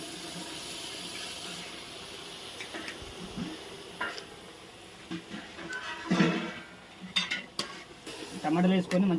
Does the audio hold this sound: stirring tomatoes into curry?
yes